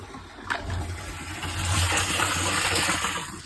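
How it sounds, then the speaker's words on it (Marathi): Water gushes steadily into a drum with a low rumbling pump-like hum, growing fuller partway through as it fills from a hose. "आता इथं पाणी चालू केलं आहे"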